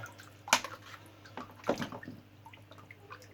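Aquarium filter parts are rinsed in tank water: splashes and sloshes in two short bursts, with quieter dripping and trickling in between, close by and fairly faint.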